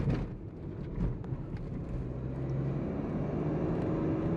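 Engine of a 2021 Porsche Macan S pulling hard under power, a steady low drone that builds slightly in a smooth, continuous rise inside the car, without speech.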